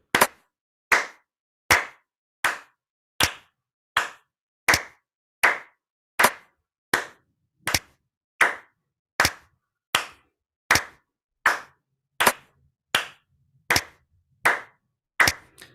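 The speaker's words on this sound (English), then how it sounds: "So we would count, clap on the beat like this, and then split that in half." Even, steady hand claps marking a beat, about twenty sharp claps spaced roughly three-quarters of a second apart, close and alone with no talking.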